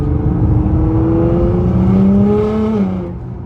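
A Nissan GTR engine accelerates on a cautious test drive while still cold, a loud, close, smooth rising drone that climbs steadily in pitch for about three seconds before easing off, with no talking.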